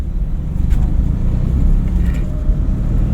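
A car pulls away during a driving lesson, its engine a loud, steady low rumble throughout with a slight rise as it moves off, and no talk over it.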